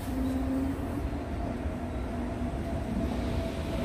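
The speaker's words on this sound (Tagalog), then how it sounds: "Ito na yung tren." A subway train arriving at a Seoul station: a dense, loud, continuous rumble and roar with a faint steady hum on top, filling the whole moment with no voices.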